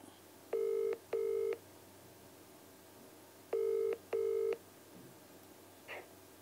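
Four touch-tone keypad beeps from a telephone being dialed, arranged as two quick pairs separated by a short pause, clear and steady over a faint background hum with no talking.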